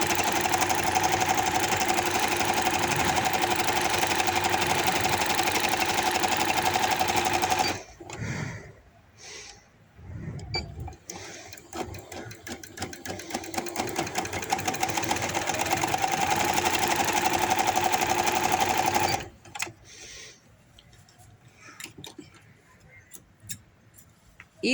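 Electric sewing machine stitching a baby boy hoodie, a fast, close mechanical whirring that runs continuously, stops for a moment with handling noises, resumes in a longer run, then gives way to quiet rustling.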